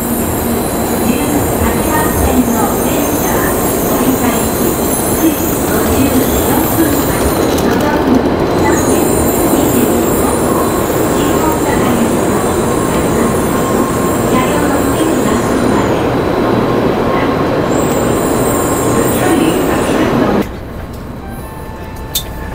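A Japanese bullet train roars continuously close by at a station platform, with rumbling wheels and a high hiss, then drops suddenly near the end; voices are mixed into the noise.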